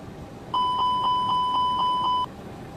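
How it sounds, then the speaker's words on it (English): Engine fire test warning in a ToLiSs A320neo cockpit in X-Plane 12, a loud pulsing electronic chime repeating rapidly for under two seconds, then stopping abruptly. "Engine on fire test."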